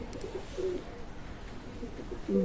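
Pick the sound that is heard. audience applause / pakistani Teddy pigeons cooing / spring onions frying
pakistani Teddy pigeons cooing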